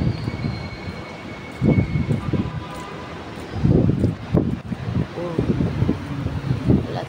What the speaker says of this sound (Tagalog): Sobrang malakas ang hangin.